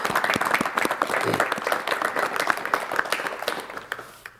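Studio audience in a 1986 Korean KBS television talk show clapping to welcome an elderly independence activist guest: a steady round of fairly close applause that stays full throughout and thins slightly toward the end.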